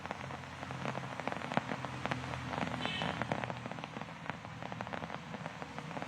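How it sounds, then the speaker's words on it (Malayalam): Heavy rain in Thiruvananthapuram, falling as a steady dense patter with scattered sharper drop hits on surfaces, continuous and even throughout, faint and distant. "തിരുവനന്തപുരത്ത് പുലർച്ചെ മുതൽ നല്ല മഴയാണ്"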